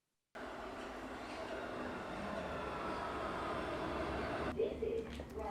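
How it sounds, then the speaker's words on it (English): A London Underground train rumbles steadily into Ruislip station, a broad low roar with rattling that holds for several seconds before easing, with a brief voice near the end. "Should we just sort of pretend that I arrived on a train?"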